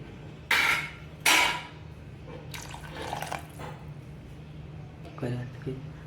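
Water is poured into a cooking pot holding tindora (ivy gourd) and potato pieces, with splashy bursts in separate pours over a low steady hum, and a voice talking faintly in the background.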